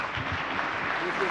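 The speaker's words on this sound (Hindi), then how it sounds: "चलो इनके लिए जोर से ताली बजाओ यार।" Crowd applause at a national government event at Vigyan Bhawan in Delhi, a soft, distant, even patter of many hands with a voice faintly audible over it.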